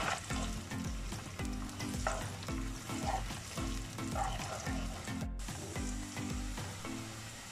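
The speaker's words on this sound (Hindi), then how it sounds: "प्याज जो दो अदद मैंने चॉप करके रखे हुए थे वो ऐड कर देंगे अब इनको हम सोते करेंगे" Chopped onions sautéing in desi ghee, a steady loud sizzle with repeated scraping stirs of a spoon against the pan, close and continuous with no talk.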